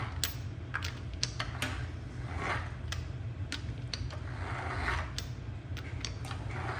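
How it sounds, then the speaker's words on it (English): A rough mechanical grinding with scattered clicks and ticks over a steady low rumble, continuing unevenly at close range, as a Suzuki LTZ400 ATV engine's starter is turned over by hand. "that grinding, is actually me manually turning the starter over right now"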